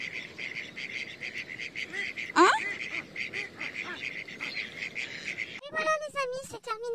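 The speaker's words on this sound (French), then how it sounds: "J'ai vu plein d'oies, de canards, plein de bébêtes." Geese and ducks calling in the marshes of Le Long in the Somme, a busy chorus of honks and quacks with a loud nearby call midway and sharper honking bursts near the end, no speech.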